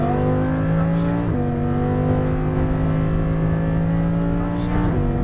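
A car's engine held at steady revs, then shifting pitch twice as the driver changes gears, loud and constant throughout with a driving instructor's voice calling out commands over it.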